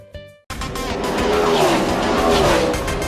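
NASCAR stock cars race in New England, a dense, continuous engine roar from a close pack of cars with tire squeal, loud throughout after a brief cut-in.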